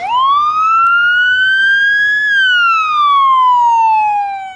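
An ambulance siren in a Dhaka traffic jam sounds loud and close as one long electronic wail that climbs, holds, then slowly falls, with a faint rumble of road traffic beneath.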